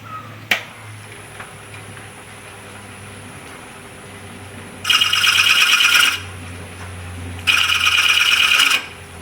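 A wood lathe turning a walnut coaster, with a low steady motor hum underneath and two loud bursts of tool scraping against the spinning wood, each lasting about a second.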